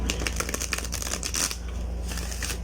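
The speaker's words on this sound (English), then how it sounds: "Then next we're gonna try to shuffle the deck." A tarot deck is shuffled by hand at close range, a dense run of soft papery riffles and taps over a steady low background hum.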